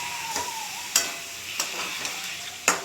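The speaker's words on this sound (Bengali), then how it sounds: "টক দই দিয়ে এখন পাঁচ ছ মিনিট কষবো" Chicken sautéing with sour yogurt in a pan, a soft continuous sizzle broken by several sharp scraping stirs of a spatula, close and steady with no talking.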